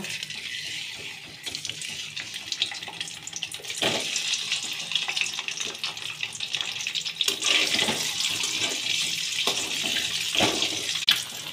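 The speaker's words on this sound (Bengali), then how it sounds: "এবার আমি ডিমটা ভেজে নেব।" An egg fries in a pan of oil where onions were just browned for chicken biryani, giving a loud, continuous sizzle and spatter with sharper crackling bursts.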